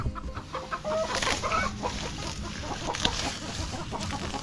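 Chickens cluck steadily around a rooster and chicks at feeding time in a Filipino backyard, with overlapping clucks and short chirps over a constant farmyard din.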